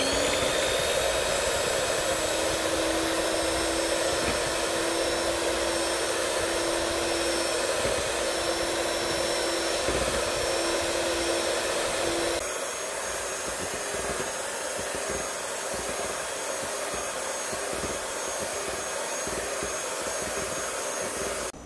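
An electric mixer whips 400 ml of cream for homemade ice cream, a steady loud whirring drone with a constant pitch that shifts slightly lower and thinner partway through, running alone without talk.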